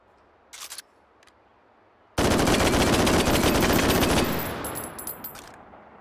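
An M14 rifle with a 30-round magazine fires full auto in the VR game Hot Dogs, Horseshoes & Hand Grenades, a loud unbroken burst of rapid shots lasting about two seconds, then ringing metallic clicks and clatter.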